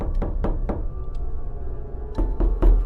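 Knocking on a door as a horror story sound effect: a group of three sharp knocks, a pause, then three more, close, loud and dry against a faint background hum.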